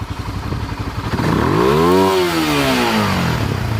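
A carbureted Honda CBR150R motorcycle engine revs up loudly toward redline, its pitch sweeping upward then falling back, with a rough clattering idle before and after the rev.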